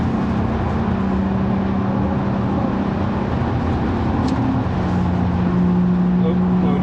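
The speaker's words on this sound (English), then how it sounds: "enjoy the beautiful song of the straight six in this car" A BMW E36 straight-six car engine drones steadily at speed, a smooth continuous roar with road noise, rising slightly in pitch toward the end.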